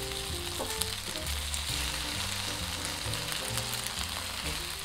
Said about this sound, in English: So please put the remaining pork slices in the pan without overlapping, and cook them for 1 minute